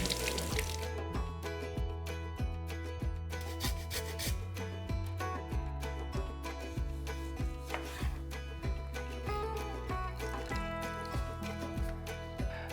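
A lime rinsed under running water in a home kitchen, a steady splashing stream with rubbing and small knocks repeating in a loose rhythm, close and moderately quiet.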